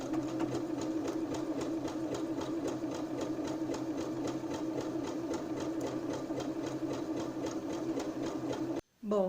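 A Janome 2030QDC sewing machine runs a narrow zigzag stitch at a steady rapid rhythm, a close and continuous mechanical whir and tapping that cuts off just before the end.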